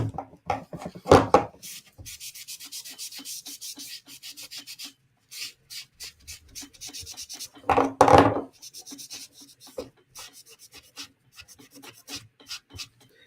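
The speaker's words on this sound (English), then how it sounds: "Get a magic eraser, get some of this marker off, clean up the bevel." A magic eraser is rubbed back and forth over the bevel of a custom knife to lift marker ink, making short, close, dry scrubbing strokes in irregular bursts with quiet pauses between them.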